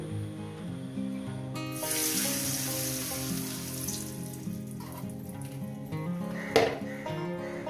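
Rohu fish pieces dropped into hot oil in a pan set up for a rohu and taro curry: a sudden bright sizzle that settles into steady crackling frying, with soft background music underneath.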